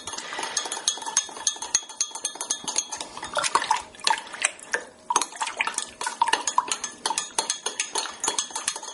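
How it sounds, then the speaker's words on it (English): A spoon stirs sugar water in a container for a quick no-knead bread loaf, ringing out in rapid, close clinks and scrapes against the sides in a busy uneven rhythm, with no talk over it. "Put the lid back on while I'm stirring."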